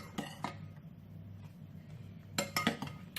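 Light clinks of a utensil against a bowl while chocolate mousse is mixed, a couple of soft taps early and a quicker cluster of scraping knocks near the end, faint over quiet room tone.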